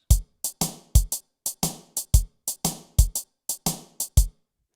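Programmed drum beat with punchy kick and bright snare cracking on two and four, looping evenly and loudly for several bars, with no voices.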